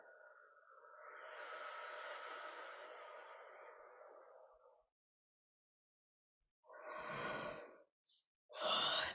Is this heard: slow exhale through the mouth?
yes